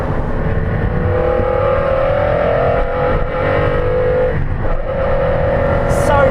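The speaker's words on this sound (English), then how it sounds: "the engine, which just, the intake noise is extraordinary." Sports car engine pulling hard under acceleration with a loud intake roar and rising revs that hold steady and close.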